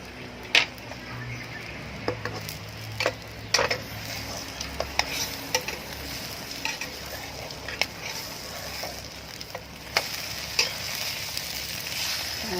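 Bitter melon being stir-fried with chicken egg and shrimp in a pan: a steady sizzle runs under repeated scraping and clinking strokes of the utensil against the pan, close and fairly quiet, with no talking.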